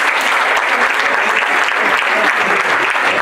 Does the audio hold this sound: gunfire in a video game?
no